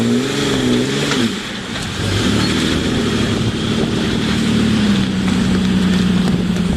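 A Jeep Wrangler LJ engine revs hard as it climbs a rock obstacle on an off-road trail at Sand Hollow OHV Area, a loud, steady mid-pitched drone with rising and falling throttle, close and continuous.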